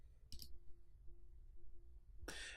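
Two crisp mouse clicks on a computer while working in an Excel pivot table, one short click near the start and a louder one near the end, with a faint steady hum between them and no talking.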